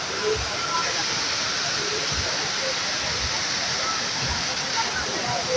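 Daranak Falls in Tanay, Rizal gives a steady, dense roar of falling water that fills the scene without a break, with a few soft low thuds underneath.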